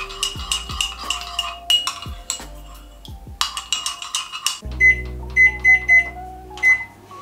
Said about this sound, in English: Mix and then microwave for 40 seconds.